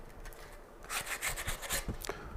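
Sandpaper rubbing back and forth over a small handmade wooden cutting board, a dry scratchy rasp in several close strokes after a quieter start, with no talking.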